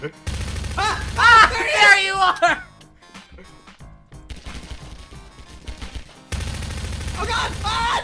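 Video game gunfire, repeated shots in dark surroundings, comes in loud bursts at the start and end with a quieter stretch between, and a voice talks over the first burst.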